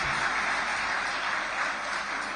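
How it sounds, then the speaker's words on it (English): Steady applause from an audience at an annual port management council meeting, a dense continuous patter of clapping held at even loudness throughout, with no voices over it. "Can we make the applause better one more time for our very special guest"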